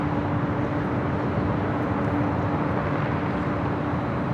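Airliner at Los Angeles LAX airport bound for Honolulu, a continuous, loud engine rumble with a faint steady whine, unchanging across the whole stretch.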